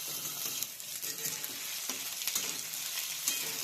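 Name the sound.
potatoes being roasted and stirred in a pan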